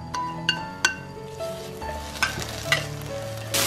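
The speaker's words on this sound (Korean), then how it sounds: "베이컨을 살짝 볶아줄게요." Bacon stir-fried in a pan sizzles steadily, with several sharp clinks of a utensil against the pan standing out above the frying noise.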